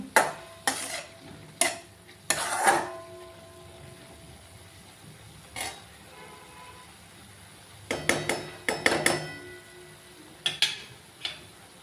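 A spatula stirs dill greens bhaji in a pan, giving sharp metallic scrapes and clanks in scattered bursts over a faint low sizzle, with quiet gaps between the clusters.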